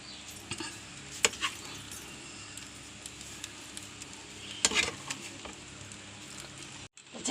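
Chicken going into a pot of biryani with fried onions, cashews and raisins, with a soft sizzle under scattered scraping and stirring clinks of a utensil against the pot, plus a couple of sharper metallic knocks.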